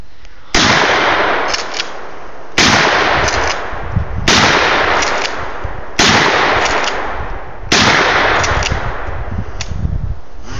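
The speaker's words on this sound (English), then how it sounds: "Here's Ben, Mossberg 835, 2 3/4." Mossberg 835 shotgun firing 2 3/4 shells outdoors: five loud, close blasts at roughly two-second intervals, each with a sharp crack and a rolling decay.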